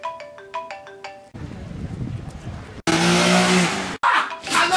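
A mobile phone ringtone plays alone for about a second as a repeating electronic melody, then gives way to louder noisy car and street sounds.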